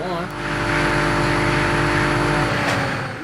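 Car engine in the racing game Super Street The Game, fitted with a 2JZ swap, revving hard and steadily through the gears, a loud sustained engine drone that strains near the top of the rev range, with talk over it.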